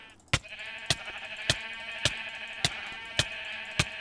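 Sheep bleat in a Mindcrack video game, a sustained bleating tone punctuated by sharp regular clicks roughly every half second, loud and close with no talking.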